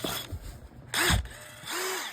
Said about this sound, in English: Just got a new drill.